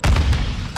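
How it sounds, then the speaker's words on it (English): A Semtex grenade detonates in Call of Duty: Modern Warfare II, a single loud, close, deep boom that rolls on as a heavy rumble for the rest of the moment. "Semtex out!"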